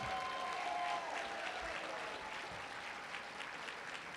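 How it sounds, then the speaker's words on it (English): Applause from a political fundraising crowd fills the room, steady dense clapping at moderate distance with no one talking over it. "Give him a round of applause."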